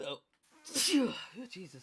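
A person lets out a single sharp sneeze during a Star Wars tabletop role-playing session, a brief burst set between stretches of close conversation.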